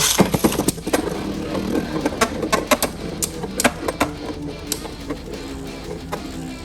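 Beyblade Burst tops, including an Ultimate Valkyrie, spinning and clashing in a stadium: a continuous rattling whir broken by sharp, repeated clicks and knocks of collision, fairly loud and close, with no voices.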